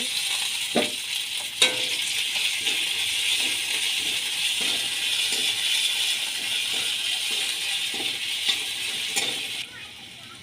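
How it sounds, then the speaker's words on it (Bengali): Mustard oil, a little sugar and chopped ginger sizzle in a hot kadai as they are stirred, a constant frying hiss with occasional spoon clinks against the pan throughout. "এবার কড়া বসিয়ে ওর মধ্যে সরষের তেল, অল্প পরিমাণে চিনি আর আদা কুচো দিয়ে কিছুক্ষণ নেড়ে নেব।"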